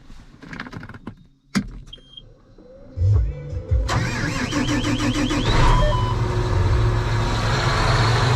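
A farm tractor engine cranks briefly and catches, then settles into a steady, loud diesel rumble. Some scattered clatter comes before it starts, and a whining, rising tone sits over the running engine.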